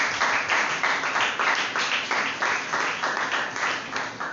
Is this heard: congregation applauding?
yes